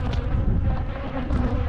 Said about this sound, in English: So the bees are still with me.